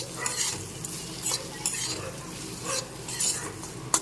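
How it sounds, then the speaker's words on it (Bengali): Turmeric powder and chopped green chilli are stirred in a frying pan for a Bengali kasundi amra dish, with steady scraping and clinking strokes over a soft sizzle, close and moderately loud, no voices. "সামান্য পরিমাণ হলুদ গুঁড়ো আর দিয়ে দিচ্ছি সামান্য দিয়ে দিচ্ছি সাথে কাঁচা লঙ্কা কুচি ভালো করে একটু নেড়ে চেড়ে মিশিয়ে নিচ্ছি"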